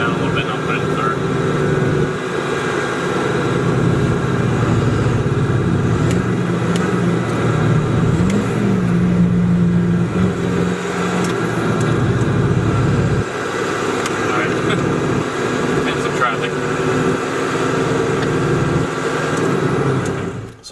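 A 7.3L Powerstroke diesel truck with a motorcycle-style throttle drives along, its engine droning steadily and shifting pitch through gear changes, with someone talking over the continuous engine noise.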